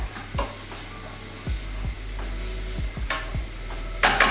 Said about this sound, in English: slide our onions and garlic into the pan. Grab a wooden spoon, give it a shake and a bit of a stir.